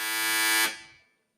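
A quiz contestant's electronic buzzer at a university capital market challenge gives one loud, steady harmonic buzz lasting over half a second, then cuts off and fades quickly.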